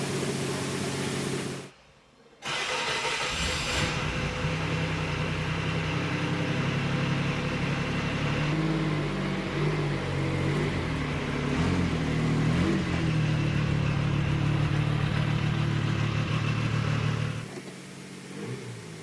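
A Metro 6R4 rally car engine runs close and loud, a rough mid-pitched roar that briefly cuts out, then builds and holds through acceleration before easing off at the end.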